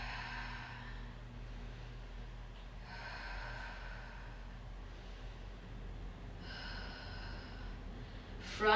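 Breathing while holding a yoga pose, slow inhales and exhales repeated at a calm rhythm, faint and close over a low steady room hum, with a louder breath at the end.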